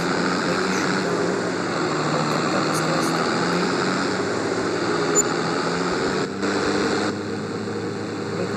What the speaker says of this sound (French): c'est un tracteur qui a 190 chevaux, les amis